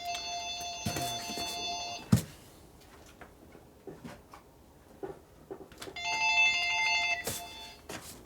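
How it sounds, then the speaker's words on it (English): An old bell-type telephone in a motorcycle repair shop rings in two long bursts separated by a pause, loud and close, with faint shop knocks and thuds between the rings and no talk. "And of course there's a phone call again."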